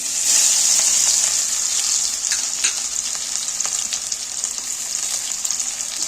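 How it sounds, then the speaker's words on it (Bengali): Chopped onions frying with bay leaves in hot mustard oil, a loud, dense hiss and crackle close up that eases slightly as they are stirred, with light scraping and no speech. "পেঁয়াজগুলোকে আমি একটু তেলের মধ্যে নাড়াচাড়া করে ভেজে নেব"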